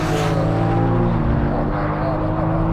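A BMW M3 Touring engine roars steadily at high revs, its pitch shifting slightly as it holds a throaty drone throughout, with no voices.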